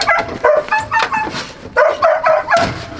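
A Rottweiler security dog from Germany barks in a loud, close series of sharp woofs, about eight in quick irregular bursts, some with whiny yelps mixed in.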